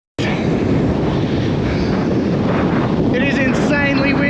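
Strong wind buffets the microphone on a Moreton Island sand dune, a loud continuous roaring rumble, with faint tonal whistles toward the end.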